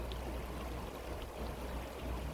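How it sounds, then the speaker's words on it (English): Stream water rushes steadily while a gold pan is dipped and swished back and forth to wash gravel at a Colorado gold mine, a soft, continuous gurgling wash with no voices. "Just go down in the water and go back and forth."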